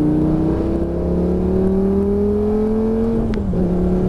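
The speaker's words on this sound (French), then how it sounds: "Allez, on ouvre les roues, on accélère" Lamborghini Gallardo accelerating on the Lédenon race track, a steady loud engine note climbing in pitch for about three seconds, then a brief dip as it shifts before pulling on again.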